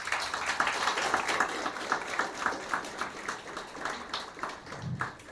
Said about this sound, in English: So please thank you, Prabhuji, with a great round of applause